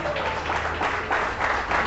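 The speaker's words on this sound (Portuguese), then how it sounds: "Você pode aplaudir o Senhor?" A church congregation applauds during a Brazilian evening service, a thick, steady wash of clapping with low background rumble under it.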